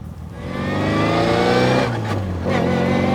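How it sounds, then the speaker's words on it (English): A small MG car engine revs hard from inside the cabin, pitch climbing through a gear, a brief dip at the shift, then climbing again. "This little engine has a fair amount of grunt."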